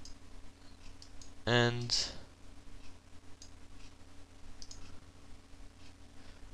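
A computer mouse gives a quick burst of clicks followed by one sharper click, close by, while someone talks quietly in the background.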